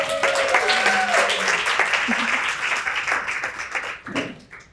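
Audience applause welcoming keynote speaker Ginger Clayton to the stage at a business leadership event, a steady wash of clapping that holds for several seconds and thins toward the end, with voices in the room underneath.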